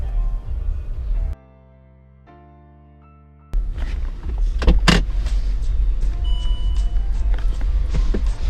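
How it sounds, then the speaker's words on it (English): A Range Rover's air suspension raises the car, a steady mechanical hum and whir from the compressor running for several seconds alongside engine idle, after a brief near-silent gap, with a few clicks and a louder burst midway. "Raising the car, that's what we like."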